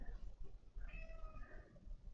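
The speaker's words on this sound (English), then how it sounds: "the cats are like meowing at the door" A pet cat meows at a door, a single wavering cry mid-clip, faint over low room rumble with no talking.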